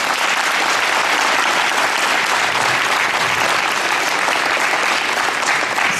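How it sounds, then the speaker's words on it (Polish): A large crowd applauds steadily and loudly at the opening of a football tournament, the dense clapping holding at full strength throughout without any voices. "Brawa Oli."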